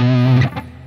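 Distorted electric guitar plays a sweeping lick in a shuffle rock style, a loud sustained chord that cuts off sharply into a couple of quick picked notes, up close and without talk.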